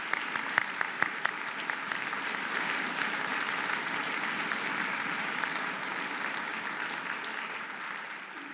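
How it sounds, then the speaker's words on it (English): An audience at a winter orchestra concert applauds first-year string players: steady, dense clapping from a large crowd, sustained evenly for the whole stretch and slowly fading at the end. "Let's give them a round of applause for their excellent effort."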